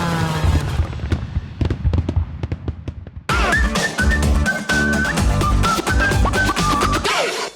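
Loud fireworks in a close, dense burst: rapid bangs and crackles, a brief drop, then a whistling rocket and a sustained barrage of pops and crackling.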